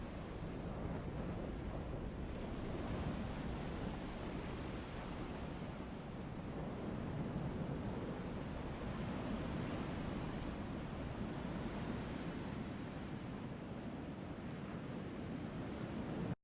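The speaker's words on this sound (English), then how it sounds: "The sound of waves follow the player along the spline, giving the player the impression that they are always hearing the shore in front of them." Shore waves in the video game Journey Home roll as a faint, continuous wash of surf, steady and soft with gentle wind-like noise and no voices.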